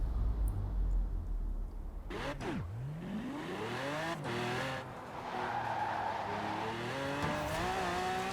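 1800-horsepower Lamborghini drift build on a highway top speed run in Forza Horizon 4, its engine revving hard and climbing through several gear shifts with brief tire squeal, loud and close throughout.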